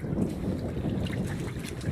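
Steady low wind rumbles and buffets against the microphone, a continuous blustery roar with no talking.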